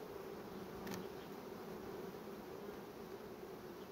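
Honey bees buzz steadily around an open beehive whose frames are being inspected, a dense continuous hum that stays close and fairly loud for the whole stretch, with no one talking.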